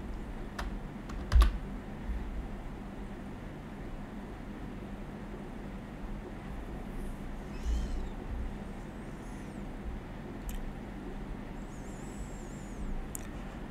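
Keys clatter on a computer keyboard in short irregular bursts of typing, close but quiet, over a low steady background hum with no speech.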